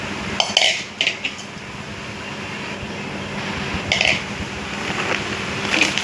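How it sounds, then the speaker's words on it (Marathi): A small, newly bought metal kadhai (wok) is handled nearby, giving a few short clanks and clinks at scattered moments over a steady low room hum, with no talking. "मी एक छोटीशी कढई घेतली आहे."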